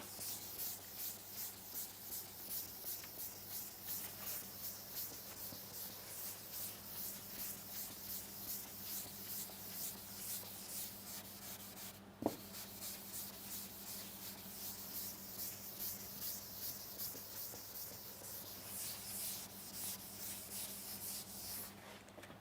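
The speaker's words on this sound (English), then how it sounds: "I will just clear this drawing here." Rapid back-and-forth rubbing of an eraser wiping a drawing off a board, a steady close scrubbing rhythm of quick strokes that continues throughout, broken once by a brief sharp tap.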